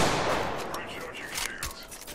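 Rapid bursts of enemy gunfire in Apex Legends, a dense crackling volley at the start fading into scattered shots, with a player's voice talking over it.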